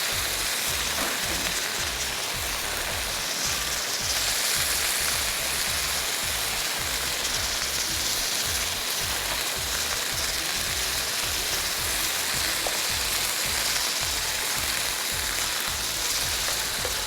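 Steady, loud, close sizzling of food frying in oil for a shahi tukray dessert, a dense hiss that holds unbroken throughout with no talking.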